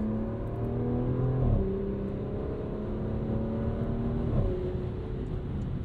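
A 2023 Porsche Macan S accelerates hard from inside the cabin, engine note climbing steadily through the revs with two distinct gear shifts breaking the rising whine, no one talking.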